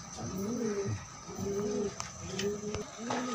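Pigeons, including red check and blue check white flight birds, coo close by in repeated soft rolling phrases, about five coos in a few seconds, with faint background clicks.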